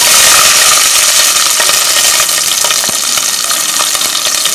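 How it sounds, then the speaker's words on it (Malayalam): Shallots hit hot oil with spluttered mustard seeds, giving a loud, close, steady sizzle with scattered crackles and faint stirring clicks throughout. "കടുക് പൊട്ടി തീരുമ്പോഴത്തേക്ക് നമുക്ക് ഈ ചുവന്ന ഉള്ളി ഇട്ട് കൊടുക്കാം"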